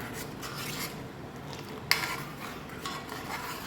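A spoon scraping and stirring tender coconut payasam with sugar in a pan, a steady soft rubbing with one brief metallic clink midway, fairly quiet and without talk.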